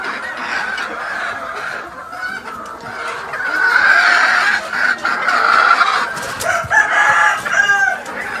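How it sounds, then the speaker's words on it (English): Pumpkin gamefowl hens and roosters at a game farm, a dense flock of clucking and cackling with rooster crowing rising over it, close and continuous, with no talking. "Six hens. Oh, eight hens."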